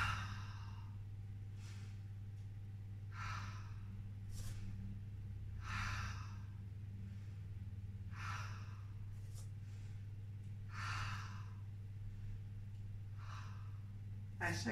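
A person breathes in and blows out hard in a regular rhythm while pedaling, close and fairly soft, each exhale a breathy burst every couple of seconds over a low steady hum.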